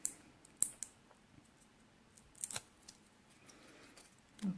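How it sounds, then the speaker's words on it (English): Scissors snipping the edges of foam dimensional adhesive pads during cardmaking. A few quiet, crisp close cuts are spaced irregularly over a faint room background, with no voices. "Let's just snip one of my edges of my dimensionals."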